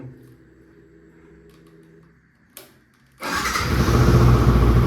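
A Yamaha R15 motorcycle cold-starts after a quiet stretch of low hum: a brief click, then the engine catches and settles into a loud, steady idle that grows slightly fuller.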